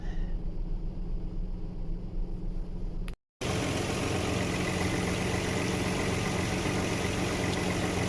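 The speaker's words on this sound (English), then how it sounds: "hold the gas for probably 30 seconds or so it can maintain an idle" A Nissan VG30E engine in a 1987-97 Nissan D21 Hardbody pickup idles with a steady low rumble and hum. There is a very brief dropout partway through, then it carries on evenly.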